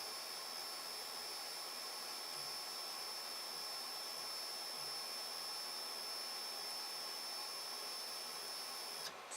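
A Protomaker 3D printer drives its Z axis up to home, producing a faint, steady motor whine and hum that runs continuously before stopping near the end.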